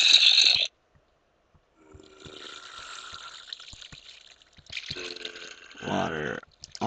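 Flowing-water sound effect from the video game Minecraft inside a mob grinder, cutting off abruptly, leaving near silence with faint clicks, then the steady rushing returning as the water is switched back on.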